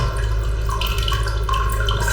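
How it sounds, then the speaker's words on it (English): Water trickles and drips from an overflowing full cistern, a steady soft wash of running water with light irregular splashes, fairly close and alone. "So our cistern is full. You can see it's just dripping out a little bit."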